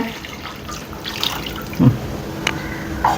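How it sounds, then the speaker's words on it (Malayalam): Water pours briefly into a pot of kanthari rasam with tomato, giving a close, splashy trickle with a few small splashes and drips. "ഇതിനുള്ള വെള്ളം കൂടെ ഇതിലോട്ട് ഒഴിക്കുകയാണ്"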